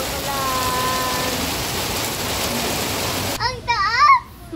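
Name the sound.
rain falling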